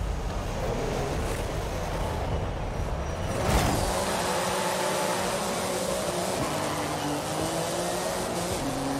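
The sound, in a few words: car engine driving in Forza Horizon 5 video game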